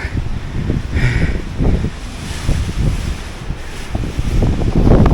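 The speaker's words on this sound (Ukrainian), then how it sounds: "Вітер якийсь дуже сильний." Strong wind buffets the microphone in loud, rumbling gusts on the Vereda do Risco trail in Madeira, with a broad roar like open water behind it.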